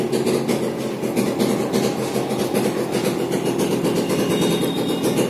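A New Holland 4510 tractor's diesel engine runs steadily nearby, a loud, even rumbling chug with a rapid repetitive knock and no speech over it.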